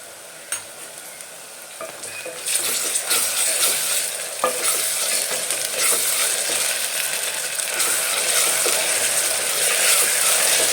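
Onions with ginger-garlic paste fry in a pan, starting as a light crackle and swelling after a couple of seconds into a loud, steady sizzle with occasional soft stirring scrapes.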